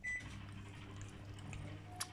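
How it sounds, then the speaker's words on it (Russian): A microwave oven hums steadily in a home kitchen, a low continuous drone that stays faint and even, with a brief high electronic beep near the end. "ты зачем микроволновку включила?"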